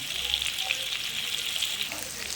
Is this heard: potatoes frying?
yes